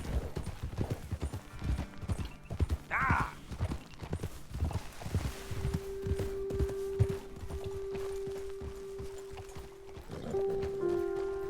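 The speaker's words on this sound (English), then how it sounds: "Я скачу со всех ног." Rapid rhythmic hoofbeats of a galloping horse in Red Dead Redemption 2 drum steadily, with a brief whinny and a sustained musical tone rising underneath near the end.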